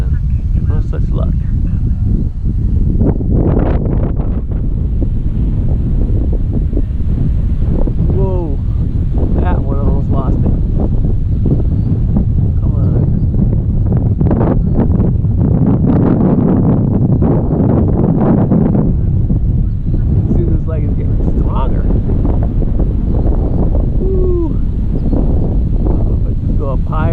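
Extremely strong wind at an RC plane flying field while an E-flite Piper Cherokee 1.3m is flown: loud, constant roaring gusts buffet the microphone throughout, with someone talking over the noise.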